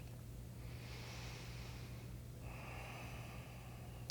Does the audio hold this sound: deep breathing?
yes